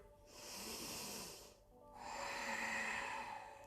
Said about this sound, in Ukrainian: Вдих. Вдих. Ще вдих.